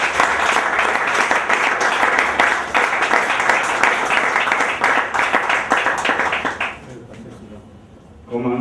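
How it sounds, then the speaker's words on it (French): An audience at a diploma ceremony claps loudly and steadily for several seconds before the applause fades out, leaving faint voices in the room. "Sur vos acclamations, s'il vous plaît."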